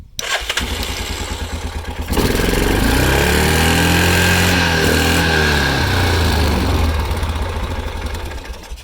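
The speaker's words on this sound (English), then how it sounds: "It is revving up enough now, if I turn her on." A small Yamaha Kodiak or Grizzly 400/450 ATV engine, after carburetor cleaning, sputters at first, then catches and revs up loud, holding a high steady roar before easing slightly at the end.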